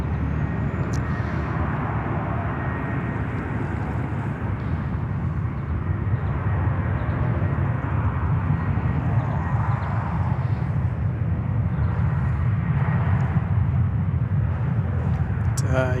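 A heavy airliner landing on runway 34 right at Sydney Airport, its steady low engine roar filling the whole stretch under continuous talk.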